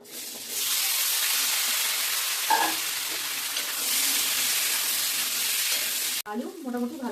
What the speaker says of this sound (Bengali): এবার ওই তেল এই আলুগুলোকে একটু ভেজে নেব।